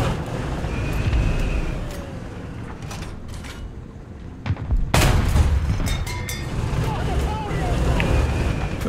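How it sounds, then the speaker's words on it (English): Tank cannon shots from a Vickers Mk.E in War Thunder ground realistic battle: a sharp loud blast near the middle over steady rumbling engine and battlefield noise, with smaller distant impacts scattered throughout. "Feel good about the shots I'm taking, but they're not being overly effective."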